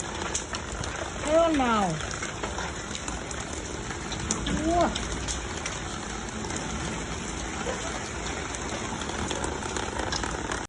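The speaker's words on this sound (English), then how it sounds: "With 1-inch hail and strong wind gusts causing property damage" Rain and hail from a severe Kansas or Tennessee storm with strong wind gusts keep up a steady, dense hiss and patter, while a voice briefly speaks and exclaims over it.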